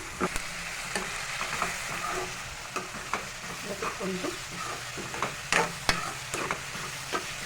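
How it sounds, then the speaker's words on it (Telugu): Onions and green chillies frying in a pan for an egg and fish-chilli curry, a steady close sizzle broken by sharp scrapes and clicks of a spoon stirring against the metal. "ఉల్లిపాయలు చక్కగా బ్రౌన్ కలర్ వచ్చేంత వరకు కూడా ఫ్రై చేసుకోవాలండి."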